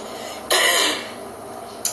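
A single short throat-clearing burst stands out over quiet background hiss, with a brief faint second sound near the end.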